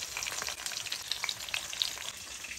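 Cauliflower and potato frying lightly in a pan, a close continuous sizzle with bright crackling pops and faint stirring, soft overall and free of speech.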